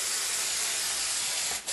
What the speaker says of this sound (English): We just spray it on.